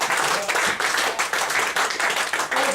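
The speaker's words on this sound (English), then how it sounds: "Give her a round of applause as she goes back to the audience." Audience applause at a mentalism stage show as a volunteer returns to her seat, dense loud clapping from a full room, continuous for a few seconds.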